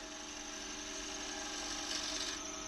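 A woodturning gouge cuts a wooden bowl spinning on a lathe, producing a steady continuous hiss and whir of shaving wood over the motor's hum, with a slight surge toward the end and no talking.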